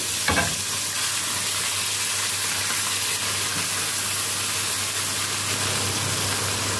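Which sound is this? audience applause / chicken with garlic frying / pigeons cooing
chicken with garlic frying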